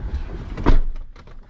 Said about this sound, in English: Oh, we're closing the door.